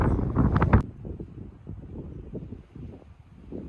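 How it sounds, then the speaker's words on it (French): Strong wind gusts buffet the microphone on a high mountain ridge in the Cirque de Cilaos on La Réunion, a loud rush at first that settles into a lower, uneven roar. "Ah, il y a quand même bien du vent."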